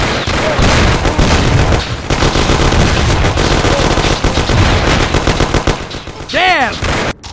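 Machine guns blaze in a firefight, loud sustained automatic bursts close by, layered and near-continuous. A short ricochet-like whine rises near the end.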